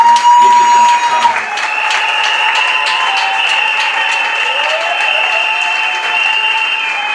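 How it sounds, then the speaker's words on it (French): Audience clapping at a peace conference for the DRC, a steady burst of applause with a sustained tone and some voices mixed in, fairly loud and continuous. "En applaudissant"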